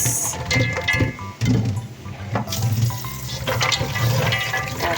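Water gushes and splashes steadily as boiled food is drained and rinsed, a loud, close, continuous rush with a few surges and clatters, and no talk.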